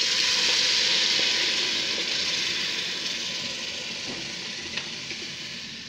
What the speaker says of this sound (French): je verse mes arachides